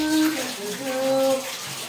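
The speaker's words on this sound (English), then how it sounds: "Now it's time to scrub it up good." Water sloshing and splashing in a bathtub as it is scrubbed during bathroom cleaning, a close, steady wash with a couple of brief tonal squeaks.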